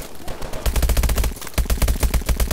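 Rapid bursts of automatic gunfire in the video game Call of Duty Advanced Warfare, loud and close, with sharp repeated shots in two sustained volleys and no talking.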